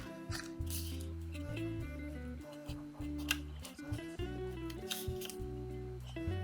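Scissors snip score marks off a paper shadow box piece, several quick cuts spaced irregularly, faint and close against a steady background of tones.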